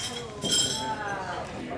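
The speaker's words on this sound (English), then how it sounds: "I'd like to propose a toast to Shane and Amy's happiness" Glasses clink together in a wedding-style toast, a few bright ringing chinks set among overlapping voices and chatter from a gathered crowd.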